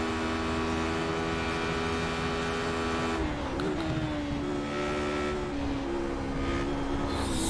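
A Radical SR8 race car engine accelerates hard at Silverstone, a loud, steady high-pitched whine that climbs, dips briefly at a gear change, then pulls on again, heard from inside the car.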